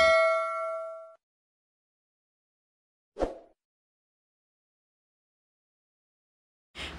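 A bright notification-bell ding rings out clearly and fades over about a second. Two short, sharp clanks follow later in otherwise silent surroundings.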